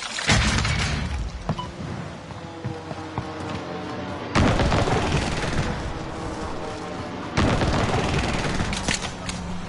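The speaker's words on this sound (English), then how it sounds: "Somebody's shooting." Gunfire in a Call of Duty match, repeated sharp volleys and bursts of shots arriving in three loud waves with quieter gaps between, close and punchy, with a few faint voices.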